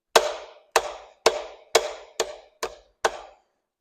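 Seven sharp, evenly spaced hammer whacks ring out close by as connecting rod caps are knocked off a Mopar LA 360 engine during teardown, each strike decaying quickly into silence.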